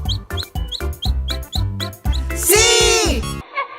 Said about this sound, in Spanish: ¡Sí! ¡Es un pollito!